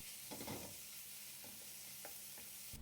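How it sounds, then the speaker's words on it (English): Aromatics paste frying in oil in a wok over medium heat, a quiet steady sizzle broken by a few scraping stirs of a utensil against the pan. "Add another tablespoon of oil, then half of the aromatics paste. Cook for a minute or 2."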